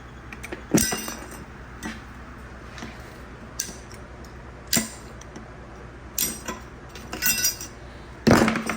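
Metal hardware clips are pried off a front brake caliper bracket on a 2016 Chevy Suburban, giving scattered sharp metallic clinks and taps, with a louder clatter near the start and a burst of clanks at the end, against a quiet background.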